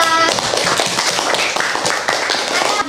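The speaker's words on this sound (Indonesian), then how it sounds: "tepuk tangan untuk kelompok 2" A primary school maths class claps for group 2, a dense patter of many small hands going fast and near for the whole moment, with no talk over it.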